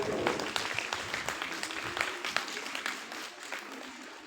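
Applause from a fifth-grade class in a school quiz competition after a correct answer: many small hands clapping in a steady, dense patter for several seconds, fairly close and lively, slowly thinning toward the end.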